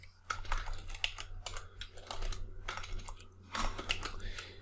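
Rapid typing on a computer keyboard while coding HTML with Bootstrap, with bursts of clicking keys close up over a steady low hum, no speech.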